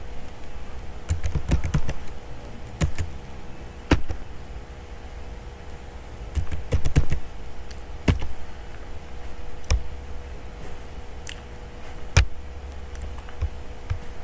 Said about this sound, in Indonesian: Sekarang saya akan mulai ketik kode baris pertamanya.